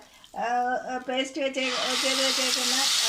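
A spice paste sizzling in hot oil in a kadai for kadai paneer, the frying hiss rising and holding strong as a voice talks over the start.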